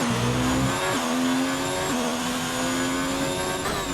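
Onboard view of a Formula 1 car in a racing game lapping the Canada 2019 circuit: a loud, close, high-pitched engine whine climbing through gears, with sharp upshifts about every second, and no talk.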